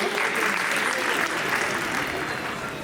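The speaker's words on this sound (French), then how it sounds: "Sous vos applaudissements, s'il vous plaît, mesdames et messieurs" Ladies and gentlemen at an awards-night champions ceremony applaud the evening's patron and the mayor: a dense, continuous wash of crowd clapping, steady and moderately loud throughout.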